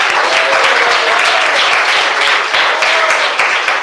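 A church congregation claps steadily together, a dense, continuous wash of applause close around that holds at an even loudness from start to finish.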